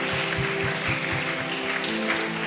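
Congregation at a French-language thanksgiving church service claps in steady rhythmic beats, roughly four per second, with voices and singing layered over the continuous applause.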